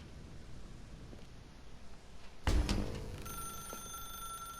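A telephone rings in The Stanley Parable video game, entering abruptly with a loud burst and then sustaining a steady ringing tone over a low background hum.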